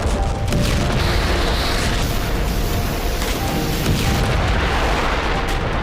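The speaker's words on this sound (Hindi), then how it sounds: "रूस की भारी भरकम मिसाइलों का हमला।" A heavy Russian missile strike, a deep rumbling blast with sustained roar and debris-like crackle, loud and close, filling the whole stretch without voices.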